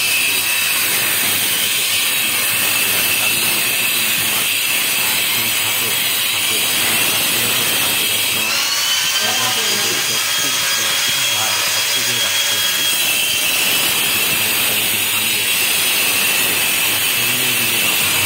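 An electric wall cutting machine cuts grooves into a masonry wall for electrical conduit pipes, a loud continuous grinding whine and hiss running throughout with changes in load as the blade moves along the line.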